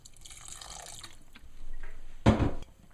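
Water poured into tomato sauce simmering in a pan on the stove, a brief splashing burst lasting about half a second after quieter kitchen clatter, close and fairly loud.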